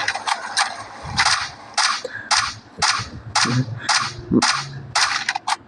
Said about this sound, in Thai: น้องก็พยายามยิงนะครับทุกคนตอนนี้